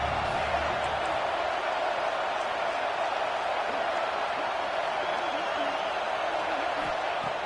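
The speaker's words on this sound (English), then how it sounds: "the crowd coming to life here trying to help this defense down in the red zone" Football stadium crowd at a college game, the home side roaring to back its defense in the red zone; a steady, dense wash of crowd noise holds loud and unbroken throughout.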